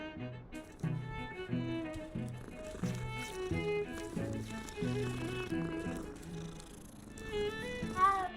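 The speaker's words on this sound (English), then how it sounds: "So many cats." Cats in the Hogwarts Legacy video game meowing and purring, with layered tonal mewing calls over a steady bed of ambient game music and sound.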